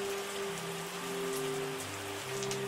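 Rain in the wine-making simulation game Terroir, a steady patter of falling drops on surfaces with sustained musical tones underneath, constant and fairly loud throughout with no voices.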